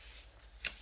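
A single crisp paper crease as a 5x7 paper envelope made on a punch board is folded shut, one short swish against a quiet background hiss, close and soft.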